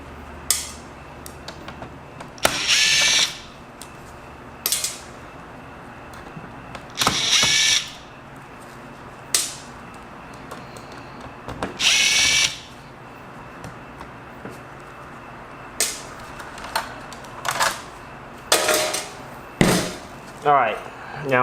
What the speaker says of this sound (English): May have actually been using the wrong screwdriver tip the whole time.